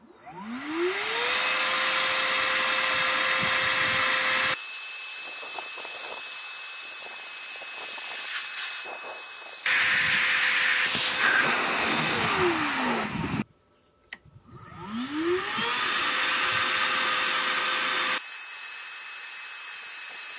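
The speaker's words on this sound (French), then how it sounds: "je vais faire un petit test de soufflerie et d'aspiration, voir ce que ça donne" A Lidl Parkside PNTSA 20-Li A1 cordless 20V wet/dry vacuum run first blowing, then sucking, each time spinning up into a loud steady whine and airy roar, stopping, and starting again.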